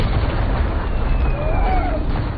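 Artillery cannon explosions in a war film scene, a dense continuous rumble of booms and blasts filling the whole stretch, loud and close, with a faint whistling streak passing overhead.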